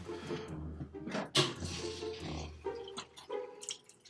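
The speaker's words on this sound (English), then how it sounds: "I'm gonna add some distilled water in here now." Distilled water is poured into a car radiator during an engine rebuild, a close, gurgling trickle with splashes and bubbling that varies in strength throughout.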